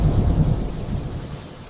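Heavy rain pours steadily under a deep, rolling thunderstorm rumble, loud and close, fading slightly over a short stretch with no voices.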